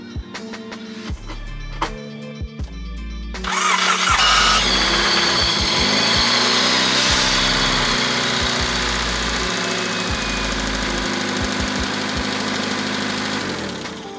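A Honda Civic EG with a newly replaced starter and distributor gives a few clicks and cranks, then the engine catches and settles into a loud, steady idle that holds to the end.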